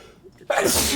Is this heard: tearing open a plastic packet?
no